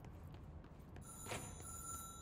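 A telephone rings in the video game Control, a faint, distant electronic bell that starts partway through and sustains over a low, muffled room ambience.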